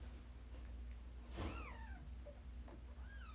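A five-day-old kitten gives a thin, high, wavering meow, with a shorter second cry soon after, close and fairly clear over a steady low background hum.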